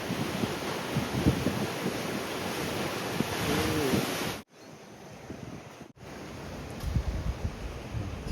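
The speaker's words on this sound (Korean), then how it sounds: "바위에 하얗게 부서지는 파도가 정말 멋있습니다" Sea waves break on rocks along the Oeongchi coast in Sokcho, a steady roaring wash of surf mixed with gusty wind buffeting the microphone, with a brief dip partway through.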